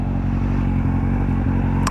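Motorcycle riding on a cool day, a steady close engine drone with wind rumble throughout, loud and unbroken, with a brief clatter near the end.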